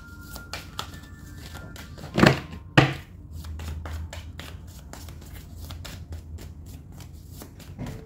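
Tarot cards being shuffled by hand, a steady run of soft riffling and slapping sounds with two louder flicks early on, close and fairly quiet, with no talk.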